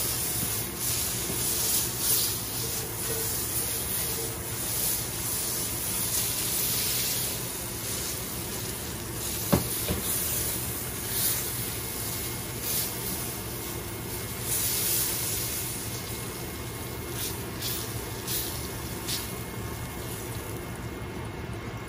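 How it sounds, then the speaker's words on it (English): Butter melting and sizzling in a hot pan set to low heat, a steady soft hiss and crackle running continuously with one sharp tick midway, no talk. "then you wanna add the butter so it can like se derrita"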